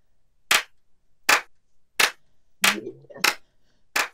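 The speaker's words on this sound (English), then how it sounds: "Why am I hearing clapping?" Sharp isolated claps sound effect, six loud single hits spaced roughly every two-thirds of a second, with a faint murmur between two of them.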